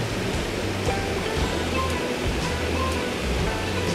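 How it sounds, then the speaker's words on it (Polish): Mountain water streams downhill near Loch Katrine in Stirlingshire with a steady, broad rushing wash. It sounds close and continuous, with no voices over it. "tu już troszeczkę lepiej widać wodę, nie? Sobie z gór spływa."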